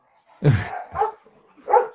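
Several dogs bark three times in quick succession, loud and close, each bark short and sharp with brief gaps between them.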